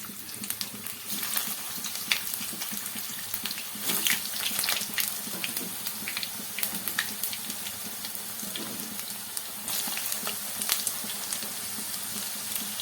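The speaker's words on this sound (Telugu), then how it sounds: "ముందుగా హై ఫ్లేమ్లో పెట్టి వేయించుకోండి" Slit bitter gourds (kakarakaya) fry in hot oil over a high flame, a steady hissing sizzle close by with occasional sharper pops and bursts of spattering, with no talking.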